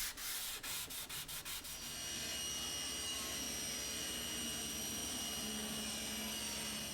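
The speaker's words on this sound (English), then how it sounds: "a little light surfacing with a hand scraper and some sandpaper will clean up the surfaces" Sandpaper is rubbed over walnut table legs, giving a close, continuous scratchy hiss. It opens with a handful of quick rhythmic strokes and then becomes a steady, even sanding.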